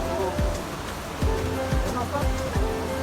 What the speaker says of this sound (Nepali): यता बगिरहेको पानी